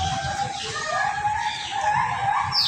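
Loud, sustained bird calls ring out in long, wavering tones over a steady background, repeating without pause, with no talking.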